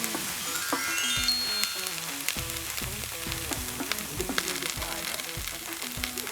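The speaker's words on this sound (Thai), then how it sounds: "โอเคครับใส่น้ำมันเนาะ เอาหอมใส่นะครับ ผัดให้มันหอมก็พอครับ" Shallots stir-frying in hot oil in a pan, a steady close sizzle with repeated scraping and clinking of a utensil against the pan throughout.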